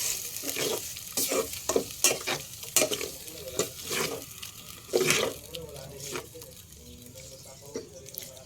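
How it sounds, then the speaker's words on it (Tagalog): Alamang (Filipino shrimp paste) sautés in a pan, giving a steady sizzle broken by repeated scraping stirs of the spatula, loud and close, with a burst of stronger frying midway and a faint voice now and then. "ako ay nagisa ng alamang"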